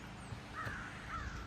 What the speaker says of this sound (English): Are the crows mad there's a duck on the pond?